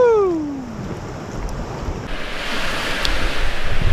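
Waves reflect and slap against the Lake Superior shore while kayaking, with loud continuous surf and heavy wind rumble that build over a few seconds. A rising whoop is heard at the start.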